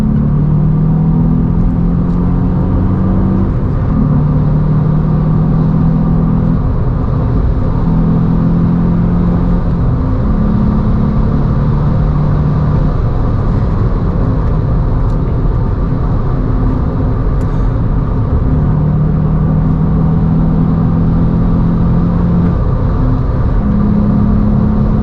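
A Volkswagen up! GTI engine drones loudly from inside the cabin while driving, a strong low rumble with shifting engine tones rising and falling through the revs alongside road noise, no talking.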